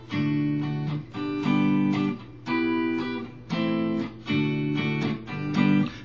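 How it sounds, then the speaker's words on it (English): Strummed rhythm guitar chords from a song, played alone in six steady bursts of bright, ringing chords with brief gaps between them. "actually, most of it's just contained with rhythm guitar"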